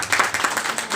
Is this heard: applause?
yes